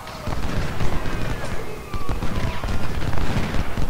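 Musket volleys in the Ultimate General: Civil War strategy game, a dense continuous crackle of overlapping shots and distant booms throughout, loud and unbroken.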